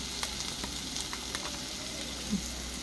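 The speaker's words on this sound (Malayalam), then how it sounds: "അതിങ്ങനെ ഇളക്കി കൊടുക്കും. സിമ്മിലിട്ടിട്ട് വേണം കേട്ടോ ചെയ്യാൻ" Food frying gently in a pan on low heat while being stirred, a steady soft sizzle with scattered scraping clicks from the spoon, close, with no voices.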